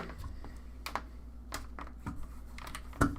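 An orange computer keyboard being handled and tapped, giving scattered quiet key clicks and clacks at an irregular rhythm in a quiet room, with no speech.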